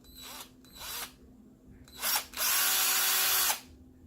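A KKmoon cordless electric screwdriver whirs in short bursts: two brief spins, a pause, then a rising run and a sustained buzz of about a second before stopping, close and alone.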